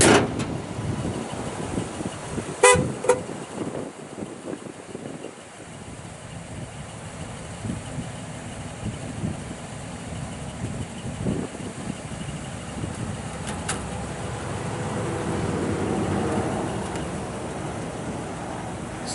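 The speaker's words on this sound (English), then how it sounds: "Fires right up. Nice, quiet running." A 1971 Pontiac LeMans Sport Convertible's 350 four-barrel V8 with dual exhaust idles smoothly and quietly at a steady low rumble, with a couple of faint clicks near the start.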